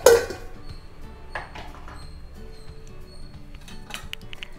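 A lid is set on a pot of tomato fenugreek rasam, giving a sharp metallic clink at the start, followed by faint kitchen clatter and small knocks in a quiet room.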